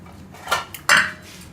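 A spoon scrapes and taps against a metal dish while spreading chana dal burfi mixture, two short metallic clinks close to the microphone, the second sharper and louder.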